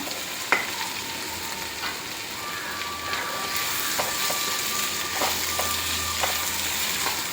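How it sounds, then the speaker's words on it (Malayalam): Masala is stirred into a vegetable curry in a pan, with a steady, close sizzle throughout and repeated scraping strokes of the spoon. "നന്നായിട്ട് മസാല ഇതിൽ പിടിക്കുന്ന രീതിയിൽ ഇളക്കി കൊടുക്കണേ"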